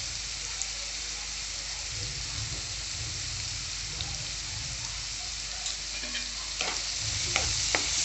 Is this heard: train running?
no